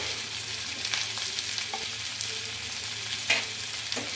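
Steady sizzling of moong dal pesarattu ingredients sautéing in a hot pan, with small pieces of fresh coconut added, occasional soft scrapes and stirring clicks, no voices.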